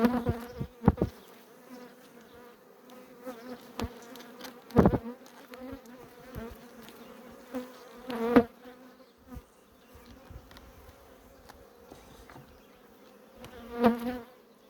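Honey bees buzz continuously around an open beehive during an April inspection, a close, wavering drone broken by occasional knocks and thumps of frames and hive parts.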